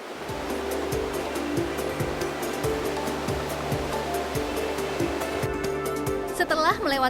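Loud, continuous rushing of turbulent river rapids on a rafting route in Probolinggo, Indonesia, with rhythmic thumps and a brief voice near the end.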